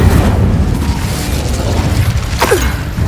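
A fire spell blast from a Harry Potter video game, a short whooshing burst with a rising swish near the end over steady game ambience.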